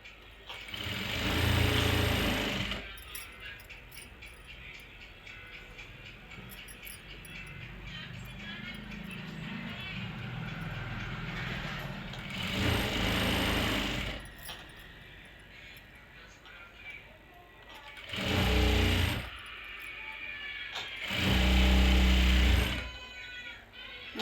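A domestic sewing machine stitching a lehenga made from salwar fabric runs in several loud bursts of rapid whirring, separated by quieter stretches where someone talks.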